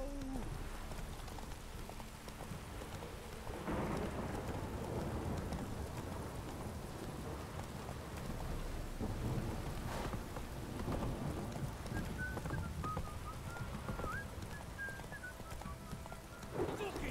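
Rain pours steadily in a thunderstorm in the Witcher 3 video game, with low thunder rumbling beneath the constant downpour and a horse's hooves clopping faintly through the wet scene.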